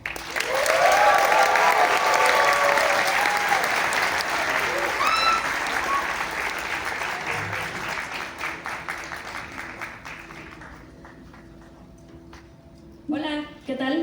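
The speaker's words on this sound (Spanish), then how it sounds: "Recibamos con un fuerte aplauso a" A concert crowd breaks into loud, sustained applause with cheers as the singer is welcomed onstage; the clapping slowly thins out over about ten seconds, then a few louder bursts return near the end.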